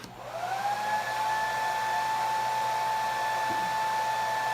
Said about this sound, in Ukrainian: Ще підключаю фен, моторчик.